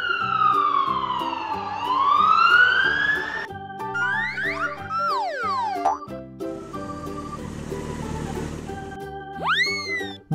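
A black toy police car sounds its electronic siren: a run of rising and falling wails, quick chirping sweeps and warbling tones, loud and close, with no voices.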